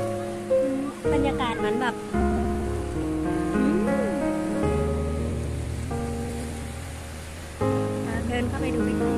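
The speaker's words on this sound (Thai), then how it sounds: "ได้ยินเสียงคลื่นทะเล" Sea waves wash steadily onto a breezy, hot beach, a constant hissing surf under a person talking nearby throughout.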